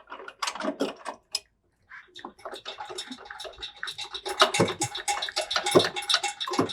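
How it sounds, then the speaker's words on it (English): Jack being cranked by hand to raise an Exmark Radius zero-turn mower on a slide-in jack mount, giving a steady run of ratcheting mechanical clicks that builds louder toward the end, close by with no talk. "And crank the jack."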